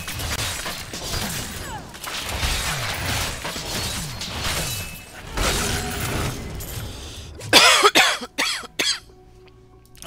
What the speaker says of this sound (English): sorry for coughing in your ears.